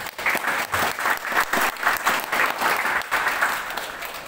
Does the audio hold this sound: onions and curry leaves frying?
no